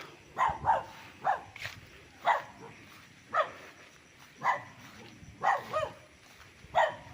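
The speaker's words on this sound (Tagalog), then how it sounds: "May aso." A dog barks repeatedly, about nine short barks spaced fairly evenly, heard at a moderate distance over faint outdoor background on a farm lot in Pagsanjan, Laguna.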